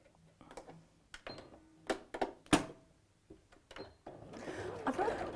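A sewing machine stitches the shoulder seam of a colour-block viscose dress in short bursts separated by pauses and clicks, then runs in a steadier final stretch, close and moderately quiet.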